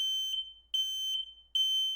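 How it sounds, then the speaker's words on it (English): A smoke or fire alarm sounds a loud, piercing high-pitched electronic tone in three long repeated pulses separated by short gaps, with nothing else heard. "A fire alarm is an example of a warning. When you hear this sound, you know you need to take immediate action."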